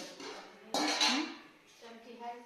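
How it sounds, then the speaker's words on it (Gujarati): Dishes and utensils are gathered up in a home kitchen, a sudden loud clatter of pots and metal ware followed by softer clinks, with a voice speaking faintly afterward. "વાસણ ભેગા કરી લે."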